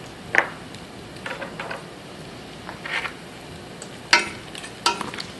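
Onions starting to brown in a pan give a soft, low sizzle, broken by occasional sharp scrapes and clicks as they are stirred.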